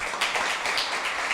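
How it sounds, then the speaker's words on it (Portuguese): A congregation claps during a church service, a brief burst of steady, moderately loud hand claps with no voices. "Vamos dar mais um lindo aplauso a Jesus."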